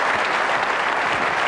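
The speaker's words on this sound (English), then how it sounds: "you need your applause too" Dense, loud audience applause fills a theatre during a televised 2003 Democratic presidential debate in Phoenix, a steady roar of clapping with no voices over it.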